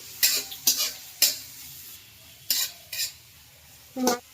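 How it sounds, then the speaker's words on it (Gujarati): A spoon stirs spices into a Manchurian mixture with onion in a pan, making about eight short scraping strokes at uneven intervals, close and moderately loud, with no talk. "આપણે બધી મસાલા મિક્સ કરી દઈએ"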